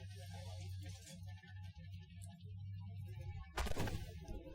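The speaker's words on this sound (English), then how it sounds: "Now I snap my shot because I know I have no armor." A Leopard 1A5 tank fires its main gun in the Armored Warfare video game. One sharp, sudden boom bursts out near the end over a quiet, low engine hum.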